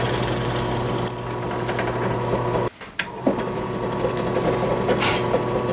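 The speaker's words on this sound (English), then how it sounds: "I'm going to enlarge these holes." A drill fitted with a 5/32 bit enlarges screw holes in a wooden coffee table, making a steady, loud whirring grind that cuts out briefly near the middle and then runs on alone.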